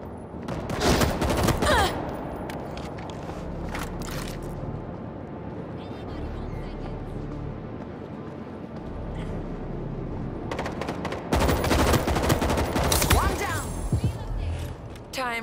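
A heavy machine gun in World War Z hammers out long, loud automatic bursts, with a dense rapid rattle at the start and again near the end and a quieter rumbling stretch between, as voices talk underneath.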